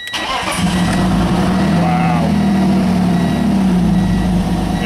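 A car engine, on a recharged, previously dead battery, cranks briefly, then catches and settles into a loud, steady running idle.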